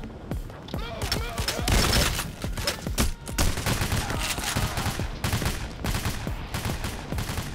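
Rapid, dense gunfire in the video game Payday, with volleys of shots and booms cracking close and loud, mixed with game noise and people talking over it.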